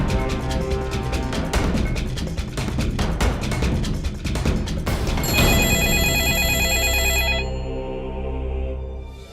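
A telephone rings with repeated bright bell tones rising out of dramatic TV-serial music and crashing effects, the ring sounding in short bursts before fading into a lingering tonal sting.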